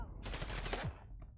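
A rapid burst of automatic gunfire in a video game, loud and close, lasting under a second and then cutting off into a faint tail.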